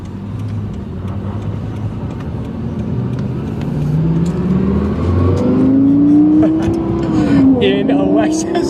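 Lexus LFA V10 engine revving, a low idle rumble climbing into a rising, sharp wail that peaks and drops back, loud and close, with people talking underneath.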